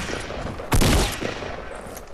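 Gunfire in a Fortnite squad fight, one loud close burst of shots rising sharply out of a quieter background, then fading, with another sharp hit at the very end.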